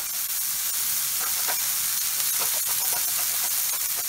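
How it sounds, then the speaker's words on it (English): A cut of seasoned meat sizzles and hisses in a hot pan, a steady crackling spatter with small pops, close by and with no talking. "Let's do that sizzle. It's a good cut of meat."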